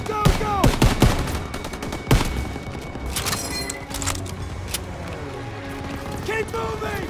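Machine-gun fire in the World War II shooter Operation Cobra 1944, with loud bursts and single cracks ringing out near a barn amid battle noise, while shouting voices carry over the din.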